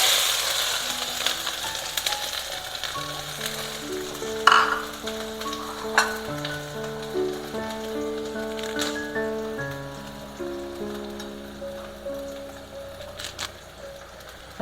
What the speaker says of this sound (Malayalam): നമുക്ക് കടലയ്ക്കേക്ക് ഉള്ളി മൂപ്പിച്ചൊഴിക്കാം